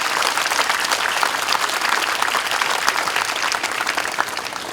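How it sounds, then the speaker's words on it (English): An audience at a school garden fete opening ceremony applauds to congratulate the basketball team, a dense, loud, continuous roar of many hands clapping without pause. "Can you join me in another round of applause to congratulate our boys?"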